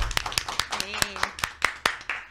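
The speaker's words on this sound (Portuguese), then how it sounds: "Uma salva de palmas." A few people clap in a small podcast studio, sharp close hand claps in an uneven rhythm, with talking and laughter mixed in between the claps.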